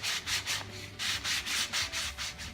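Close, rhythmic strokes of 220 grit sandpaper rub back and forth over a wooden snare drum shell, about nine even passes with brief gaps between them.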